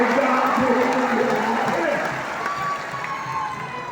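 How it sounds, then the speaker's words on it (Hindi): A crowd applauding at a political rally, a dense wash of clapping that stays strong at first and then thins out toward the end, with a voice carrying over it through a loudspeaker. "अरे ताली बजाओ भाई,"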